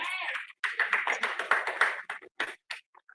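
An audience claps for author Dwight C. Maxwell at the launch of his book, with a quick patter of close, bright claps that thins into a few scattered ones before stopping.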